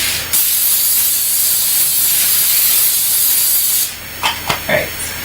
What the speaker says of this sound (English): so you're going to want to spray that.